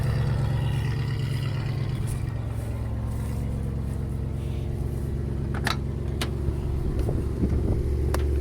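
An original, unrestored 1971 Dodge Challenger convertible with a low, steady engine rumble idles and pulls away, the deep drone holding throughout with a few sharp clicks and knocks near the end.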